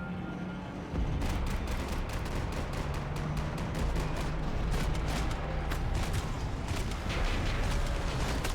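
Gunfire in Max Payne 3: a dense, steady run of loud shots and booms starting about a second in, heavy and continuous with little pause, over a constant roar of battle noise.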